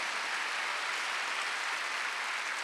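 A church congregation claps steadily during a Sunday worship service, a dense, even wash of hands heard from a distance with no voices over it.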